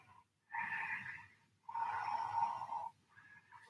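Slow, deep breaths during a standing-balance yoga pose, close and soft: a short inhale followed by a longer exhale, then the start of another breath, each with a faintly nasal, rasping tone.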